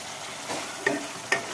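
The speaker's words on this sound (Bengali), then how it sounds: "এবারে এটাকে ভালো করে কষাতে থাকবো।" Spice masala with Kashmiri chili powder being stir-fried in a pan, producing a soft steady sizzle with two sharp spoon scrapes against the pan, close and fairly quiet.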